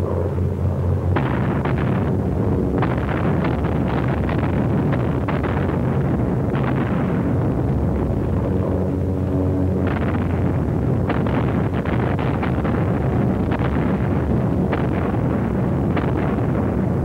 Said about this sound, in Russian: На подступах к базе зенитки капитана Пророкова встречают врага.